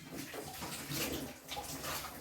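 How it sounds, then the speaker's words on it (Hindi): Dishes being washed by hand under a running tap in a canteen kitchen, with near-freezing water, a steady close splashing and rushing flow without talk. "अभी मैं किचन साफ कर चुकी, बस बर्तन धो रही हूँ"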